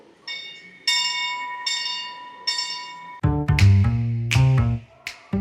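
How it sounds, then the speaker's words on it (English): A fire truck's automatic bell ringer rings in slow repeated strokes, each clear tone ringing out, then several louder, deeper clangs strike in quicker succession near the end. "this fire truck has an automatic bell ringer"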